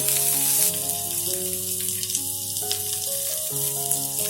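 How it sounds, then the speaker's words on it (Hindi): Onion and green chillies frying lightly in a pan over medium flame, a soft continuous sizzle running beneath steady background music. "फ्लेम को मीडियम कर दें और इसे हल्का सा फ्राई कर लें, बहुत ज़्यादा फ्राई नहीं करना इसे।"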